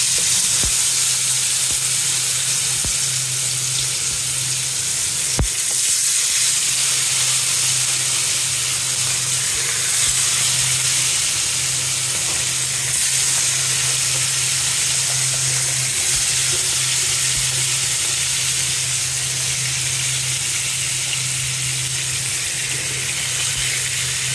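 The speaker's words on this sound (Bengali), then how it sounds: "তেল গরম হয়ে গেছে, দিয়ে দেব মাছ" Rohu fish, seasoned with turmeric, chili and salt, frying in hot oil in a home kitchen, giving a steady, loud, continuous sizzle and hiss that holds for the whole stretch with no talking.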